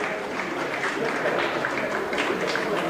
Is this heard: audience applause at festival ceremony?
yes